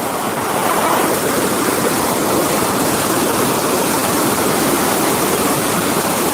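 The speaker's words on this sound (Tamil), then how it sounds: "இப்போ தான் தெரியுது பாருங்கள் நல்ல ஸ்பீடு உள்ளே போனால் இழுத்துட்டு போயிடும் அந்தளவுக்கு தண்ணி வேகமாக போகுது" Fast, rain-swollen water rushes into Kurichi lake, a steady, loud, close roar of churning flow that holds unbroken with no speech.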